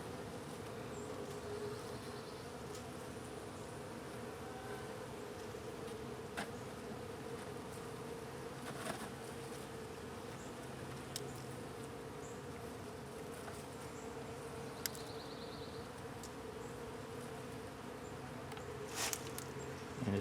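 Honeybees hum steadily around an open hive during a queen and brood check, a dense continuous buzz with individual bees droning nearer now and then.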